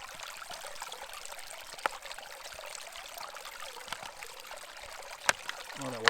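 Clear, ice-cold mountain stream water trickles into a Sawyer mini pouch in the White Mountain wilderness, a steady close hiss of running water with a few faint clicks and handling noises.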